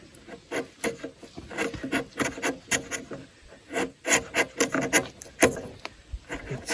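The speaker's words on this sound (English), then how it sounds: "it's kind of a pleasure with a sharp chisel. And this being poplar, it's kind of like going through" A sharp chisel pares poplar wood bevel-up while finishing a timber frame workbench, giving a string of short, close scraping and rasping strokes in an irregular rhythm, with no talking.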